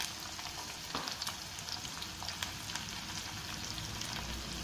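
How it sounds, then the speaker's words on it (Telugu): Chopped onions frying in a pan for a spinach besan curry, a soft steady sizzle with light stirring scrapes, fairly quiet and continuous with no voices. "మనం కట్ చేసుకున్న ఉల్లిపాయలు వేసుకుని ఫ్రై చేసుకుందాం"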